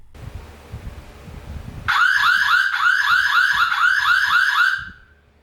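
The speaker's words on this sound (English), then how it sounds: "the red button is for starting the siren." A SimCam Alloy outdoor security camera sounds its built-in siren: a loud, rapidly warbling electronic wail that starts abruptly after a quiet moment, holds steady for about three seconds, then cuts off.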